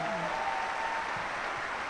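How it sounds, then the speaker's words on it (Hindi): Audience applause for the Amway Corporation fills the room, a dense, steady wash of clapping from a large crowd for about two seconds, with a faint voice briefly showing through at the start. "एक बार ज़बरदस्त तालियां बजाएंगे एमवे कॉर्पोरेशन के लिए"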